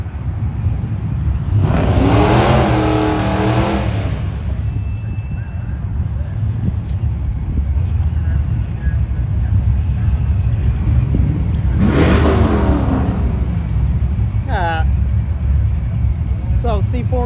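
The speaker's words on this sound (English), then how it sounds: "So C4 Corvette and a Catfish Camaro." A C4 Corvette and a Catfish Camaro rumble and rev over a steady loud engine drone, with two distinct bursts of rising revs standing out, while people talk throughout.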